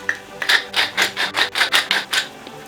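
Pepper is ground over a pan of beef stroganoff with a manual mill, giving about ten quick, even rasping crunches in a steady rhythm, close and clear with no talking.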